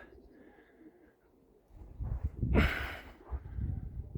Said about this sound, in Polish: Moje gołębie nie chcą wpaść w swoje, zobaczcie